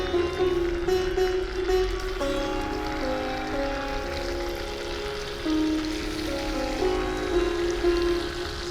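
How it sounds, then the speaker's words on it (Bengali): Paneer cubes frying in butter in a pan, a continuous close crackling sizzle under steady tonal background hum, fairly loud and even throughout, with no talking. "একটু মাখন দিচ্ছি। পনিরগুলো ভেজে নিচ্ছি।"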